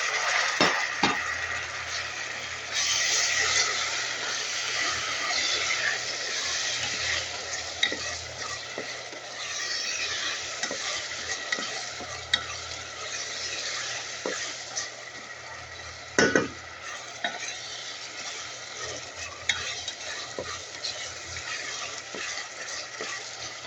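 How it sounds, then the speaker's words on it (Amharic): Tomatoes frying with browned onions in a pan, giving a steady, fairly loud sizzle throughout with occasional scraping stirs and light clicks of a utensil against the pan. "ቲማቲማችን በዚህ መልኩ እየበሰለ ነው።"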